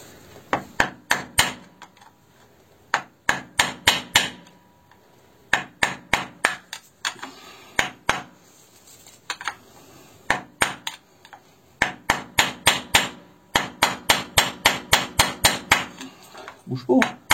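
Sharp metallic blows of a steel hammer striking an aluminium casing in rapid bursts, ringing clanks repeating in irregular clusters with short pauses between.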